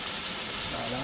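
Masala cooks in a pot for rougail morue, a dense, loud, continuous sizzle over a short moment, with a voice speaking faintly beneath it.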